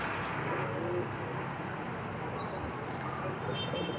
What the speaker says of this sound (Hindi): ये खुजली वाला कबूतर पता नहीं किसका आ गया रे बाबा